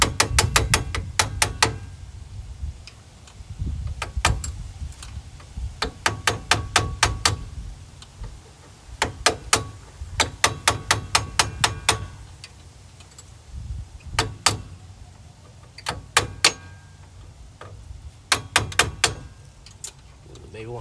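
Sharp metallic taps from a flathead screwdriver knocking out a strut part on a 2009 Nissan Altima, coming in quick bursts of several strikes separated by short pauses.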